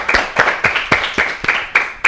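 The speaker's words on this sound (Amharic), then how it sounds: "ለያፊትም አጨብጭቡለት።" A studio audience at a children's TV quiz show claps for a young contestant named Yafit. About eight crisp, evenly spaced claps come in a steady rhythm, close and fairly loud.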